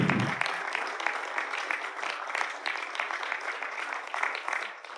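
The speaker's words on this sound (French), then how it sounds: "on peut applaudir vraiment le travail de qualité que la Cité a mené pendant toutes ces années sur le territoire" Applause from an audience at a book event rises right after a short spoken phrase and carries on as steady, moderate clapping to the end.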